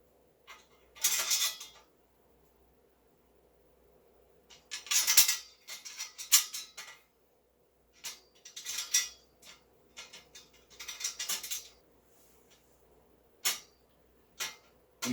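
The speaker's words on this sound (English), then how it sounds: "So, 4 medium bolts. Going to drop right through here." Metal bolts dropped through the swivel plate of a Pittsburgh flame stool, several separate sharp metallic clinks and rattles in short bursts with quiet gaps, close by and fairly faint, no talking.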